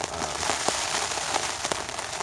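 Rain on a tent during a stormy morning of packing up camp near Astoria, with a dense, close patter and scattered sharper drops striking the fabric.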